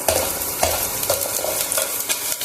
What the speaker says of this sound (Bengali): পেঁয়াজটা একটু ভাজা হয়ে গেলে দিয়ে দেবো রসুন কুচি।